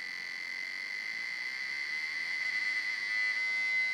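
A small speaker driven by a 555 timer chip circuit gives a steady, high-pitched electronic buzz that holds constant at moderate loudness throughout, with no talking.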